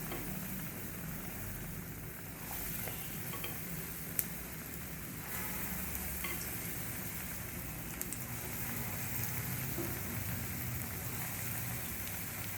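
Ram laddu batter fries in hot oil in a kadhai at a Delhi street food stall, giving a continuous, dense, rain-like sizzle and crackle at close range, with a few faint clicks and no speech.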